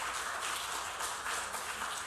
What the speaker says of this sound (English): I think these guys all deserve a round of applause one more time